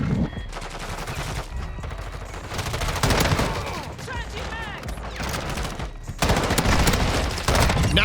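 Rapid automatic fire from an M13B submachine gun in the Modern Warfare 2 video game, loud, dense bursts running almost continuously with short gaps, over game effects and background sounds.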